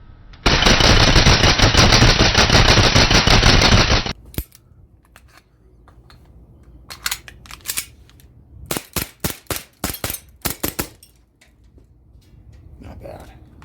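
A Crosman P1 BB pistol fires a long unbroken full-auto burst for several seconds, close and loud, followed by scattered single sharp cracks and short clusters of shots.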